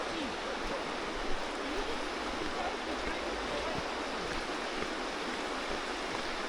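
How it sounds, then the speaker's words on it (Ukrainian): A mountain stream in the Carpathians rushes in a continuous, even roar, a steady broad wash of flowing sound without pauses, fairly close. "Йдемо до струмка якогось."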